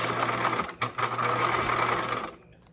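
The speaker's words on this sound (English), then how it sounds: "I'm just going to do what's called edge stitching, where I'm just stitching as close to the edge as I can" Sewing machine running steadily for about two seconds while edge stitching close to the border of a fabric backpack drawstring, with one brief pause and a clean stop, heard close and alone.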